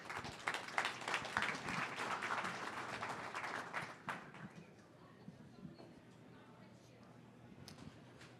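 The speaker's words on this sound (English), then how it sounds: "Let's give them a round of applause" Audience applause at the mHUB HardTech Summit pitch competition as a startup team comes on stage; fairly full clapping for about four seconds, then fading to scattered claps and quiet room noise.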